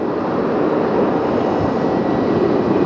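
A Silk Way West cargo jet flies into JFK, its engines a loud, steady broadband roar that holds constant throughout with no voices.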